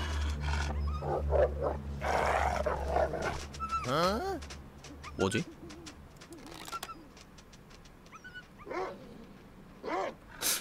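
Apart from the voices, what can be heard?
wolves growling and barking in video game The Long Dark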